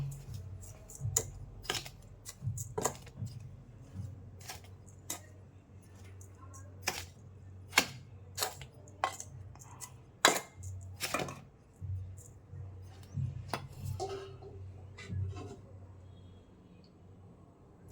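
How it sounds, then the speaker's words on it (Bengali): A spoon stirs and taps through a thick mung dal batter for malpua, with irregular close clicks and scrapes against the bowl and no talking. "সবগুলো একসাথে করে এখন এইভাবে মিশিয়ে নেব।"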